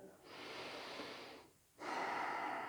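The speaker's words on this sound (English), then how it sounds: "Let's do one more big breath here." Slow, deep breaths during a gentle yoga class: a long airy inhale, a short pause, then a stronger, louder exhale, close and alone with no talking.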